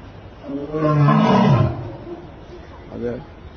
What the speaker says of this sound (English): he's got to roar to communicate with these big cats